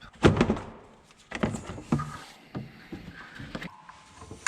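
A plastic coolant expansion tank is pried out with a screwdriver and pulled up in the engine bay of a Dodge Ram with a 3.9 or 5.9 engine, heard as several close, dull thunks and knocks with quiet pauses between.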